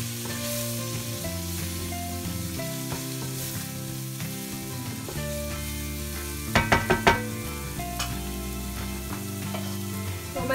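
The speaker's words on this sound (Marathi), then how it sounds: "आता ते चांगलं फ्राय करून घेऊया।" Masala with Kashmiri red chili powder sizzles and fries in a pan for a prawn curry, with a continuous crackling hiss and a few quick knocks of a spoon against the pan partway through.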